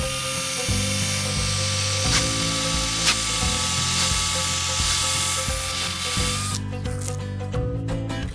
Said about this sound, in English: let us drill for the bracket